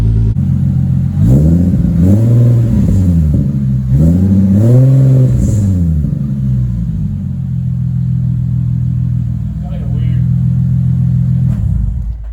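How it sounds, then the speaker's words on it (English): A car engine revs up several times in rising and falling bursts, then settles into a steady, deep rumbling idle, loud and close. "It's got so much more rumble to the exhaust instead of just loud raspiness when you first start it up"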